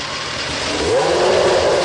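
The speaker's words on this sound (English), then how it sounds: "After the 3-litre V10 finally starts" A loud, high-pitched 3-litre V10 racing engine roars steadily after starting, its tone rising slightly as it settles into a rough, rapid idle, with no voices.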